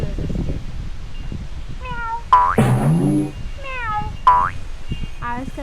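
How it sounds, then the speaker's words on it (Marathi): A lazy house cat meows loudly a few times at a farm home, its calls rising and falling over steady low background rumble. "ही आमची आळशी मांजरी आहे"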